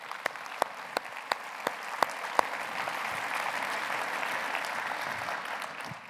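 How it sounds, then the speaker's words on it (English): Applause at a public employees diversity conference for elected officials: a few sharp isolated claps at first, then a sustained even roll of clapping from a large audience, heard from some distance. "give a round of applause to all our elected officials"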